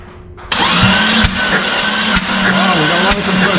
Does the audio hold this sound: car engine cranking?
yes